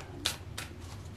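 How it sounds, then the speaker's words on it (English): Playing cards are shuffled by hand in two quick riffling bursts, close and crisp against a quiet room. "just now as I was shuffling these cards"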